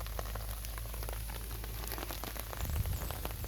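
Rain falls outdoors on a wet day, a soft, continuous patter of drops with occasional sharper splashes and a low steady rumble beneath, with no voices.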